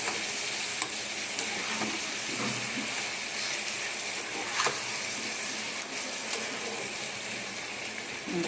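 Pineapple and sugar cooking down in a pan for jelly give off a low, continuous sizzle and bubbling hiss, with a few faint clicks and stirring scrapes, soft and close.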